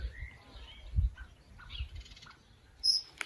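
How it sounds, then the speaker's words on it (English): Birds calling outdoors: a few thin, faint chirps and one brief sharper call come from a distance over a quiet background with a low rumble. "Oh, we've got some birds here."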